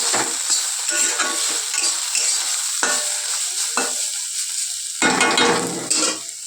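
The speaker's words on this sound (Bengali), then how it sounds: "আমি উচ্ছে ভাজা বসিয়েছি ঢেকে দিয়েছিলাম ভাপে ভাপে যেন তাড়াতাড়ি হয়ে যায়" Bitter gourd slices fry in a pan that had been covered, giving a steady close sizzle with repeated scraping stirs of a spatula across the pan, and no voices.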